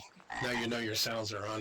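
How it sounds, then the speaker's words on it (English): A loud frog croak sounding in a virtual-world setting, a deep throaty call that runs nearly two seconds in two long pulsing bursts, heard alone and close. "if you hear a frog croaking"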